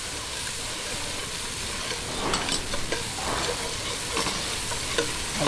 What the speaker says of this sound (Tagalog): isunod natin ang sibuyas